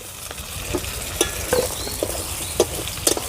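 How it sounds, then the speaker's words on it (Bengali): Already-fried prawns go into hot oil with jute leaves cooking alongside, giving a steady close sizzle broken by short spoon scrapes and taps. "তেলের মধ্যে দিয়ে দেবো ভেজে রাখা মাছগুলো"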